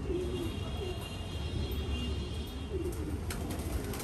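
A racing pigeon at a loft coos in soft, low repeated calls over a steady background hum, near and moderately quiet, with no voices.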